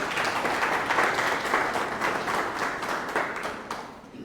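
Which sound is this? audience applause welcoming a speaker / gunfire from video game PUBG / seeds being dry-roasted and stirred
audience applause welcoming a speaker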